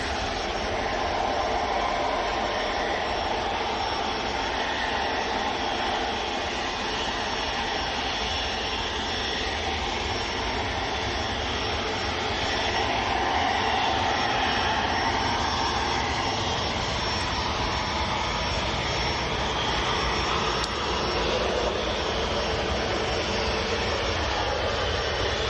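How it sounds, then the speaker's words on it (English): An Austrian-registered aircraft at Manchester Airport gives a steady, loud engine roar and whine that swells slightly midway and stays sustained and broad throughout, with no voices. "Austrian registered aircraft."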